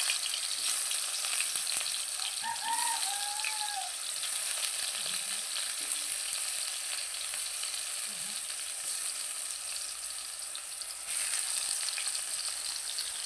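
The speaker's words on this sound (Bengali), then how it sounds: "এখন একটা করে কলা দিয়ে দিতেছি। কলাটা একটু হালকা হালকা ভাজি হবে" Bananas going into hot oil one at a time and frying lightly, giving a steady, even sizzle throughout with a few faint chirps over it and no voices.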